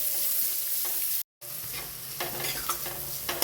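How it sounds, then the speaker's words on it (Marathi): Onion frying in a pan for a mixed dal vegetable dish, a steady close sizzle with occasional stirring scrapes and a brief gap of silence partway through. "कांदा गुलाबीसर असा भाजून घेऊया।"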